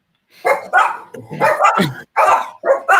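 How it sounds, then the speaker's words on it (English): A dog barks in a series of loud, close yaps and bow-wows, several sharp bursts with short gaps between them. "when like somebody's dog is barking"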